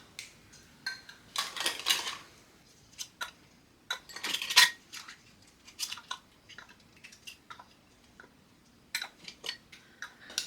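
Brand-new metal canning jar lids and rings are handled for jars of home-grown tomato soup, giving scattered light clinks, taps and scrapes in a quiet kitchen, close and intermittent with no talking.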